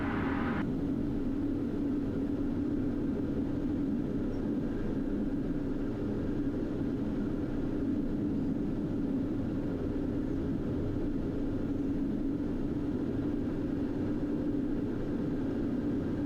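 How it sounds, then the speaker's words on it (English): A Pilatus PC-12 turboprop taxiing produces a steady, constant rumbling engine drone, close and unbroken, with no voices. "Alright, let's taxi out of this spot, get into Alpha."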